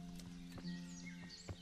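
Horse hooves clip-clop in the video game Kingdom Come: Deliverance, a few scattered thuds over a steady low hum and ambient background, with no clear whinny.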